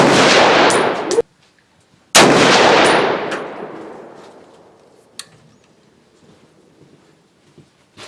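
Two loud, close gunshots from an S&W M&P 10 rifle firing SPEER Gold Dot law enforcement 168-grain ammunition, spaced about two seconds apart, each followed by a long, fading echo and then quiet.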